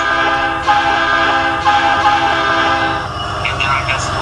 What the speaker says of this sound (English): So I'm gonna get my train through the special crossing